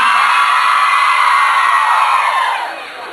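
A crowd shouts and cheers in a sustained roar, loud and continuous, fading slightly toward the end, during a hot outdoor event in Alice Castello.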